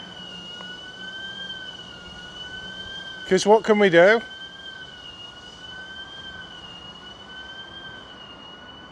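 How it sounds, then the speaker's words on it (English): Building alarm sounding as a steady, loud electronic tone throughout, with a brief burst of voices talking over it midway. "I don't know if you guys can hear the alarm going nuts"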